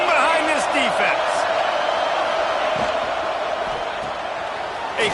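Stadium crowd roaring steadily for the Ohio State defense on a big third down in the red zone, a dense, loud wash of cheering and whoops that holds throughout, with a commentator's voice over it.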